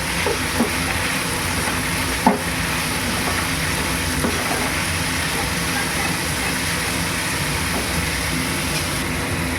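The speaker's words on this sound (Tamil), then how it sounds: "ஸோ நல்லா வந்து எண்ணெயிலே நல்லா வறுத்து எடுத்துக்கலாம்" Ground pepper frying in hot oil for a potato fry, a steady dense sizzle with a few faint clinks from a utensil, heard up close with no talking.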